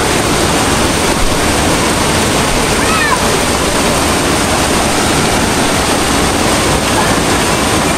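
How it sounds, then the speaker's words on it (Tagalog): Water pours steadily at Toragsoy Falls, a loud, dense rushing roar of the waterfall filling the scene without pause, close by. "Parang may tubig oh"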